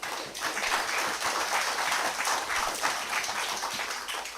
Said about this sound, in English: I want you to clap yourselves.